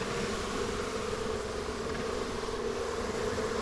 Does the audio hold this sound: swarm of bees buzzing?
yes